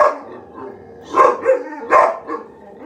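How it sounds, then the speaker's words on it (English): Dogs barking in bursts inside a home, several loud, close yelps and barks in clusters, mixed with a voice talking and scolding them. "Sorry, dogs are going crazy."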